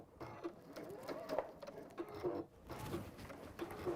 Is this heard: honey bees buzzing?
no